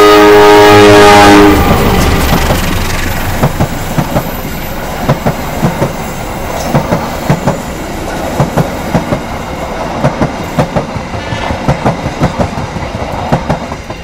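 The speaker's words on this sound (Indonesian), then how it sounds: "Dan itu tadi kereta api Serayu ditarik lokomotif CC203" A Serayu passenger train hauled by a CC203 locomotive passes close by. A loud horn blast opens, then a steady, rhythmic clickety-clack of wheels over rail joints runs on as the carriages roll past.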